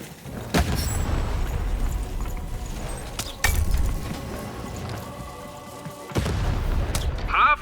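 Cannon fire in the video game Lost in Random: three heavy booms spaced a few seconds apart, each a sharp loud hit that rolls off into a dull rumble, over a steady game backdrop with no voices.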